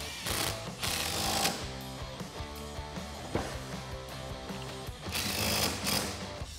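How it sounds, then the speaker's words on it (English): A suspension nut on a 2021-2022 Ford Bronco being tightened with a thin wall chrome socket while fitting a lift kit, a close rapid buzzing rattle of a power tool in bursts with short pauses between. "I'm actually going to grab a thin wall chrome socket and would actually give us enough space to kind of torque this down"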